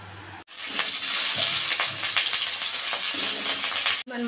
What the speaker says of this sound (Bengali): আলুটা ভালো করে এবার আমি ভেজে নেব